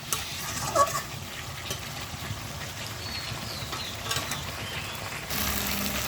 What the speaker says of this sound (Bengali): মাংসটা কিন্তু খুব ভালো করে ভেজে নিতে হবে